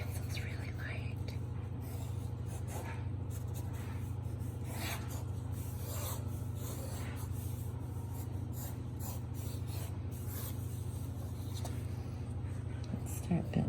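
Graphite pencil shading and hatching on paper, light strokes building line work in dark, medium and light values; soft, steady rasping scratches continue throughout under a low constant hum, with no speech.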